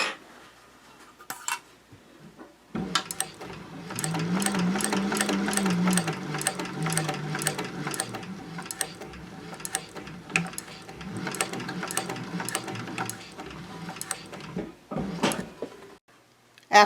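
A sewing machine runs close by for roughly eleven seconds of steady stitching along a seam on a fabric caddy with a lining, preceded by a few light clicks and handling sounds.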